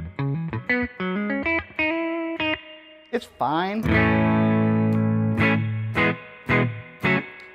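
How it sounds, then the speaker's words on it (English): An electric guitar played through a Hiwatt T20/10 amp with spring reverb, picking quick single notes and then a sustained distorted chord with a splashy reverb sproing, loud and close, followed by a brief spoken remark. "let's listen to the amp sproing. According to the website, that's real spring reverb."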